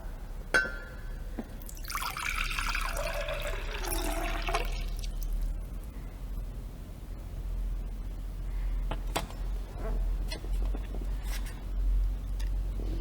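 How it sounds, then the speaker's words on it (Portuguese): Water poured into a jar, a close gurgling splash for a few seconds that then stops, followed by faint clinks and taps of handling, with no talking. "Vamos colocar primeiramente a água."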